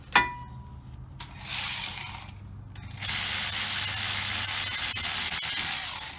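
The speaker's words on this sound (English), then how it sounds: "let me take the top bolt off" Hand ratchet working a caliper bolt loose on the rear brakes of a 2008 Hyundai Veracruz, a sharp clack followed by a steady close mechanical whirring and grinding that swells louder partway through, with no voices.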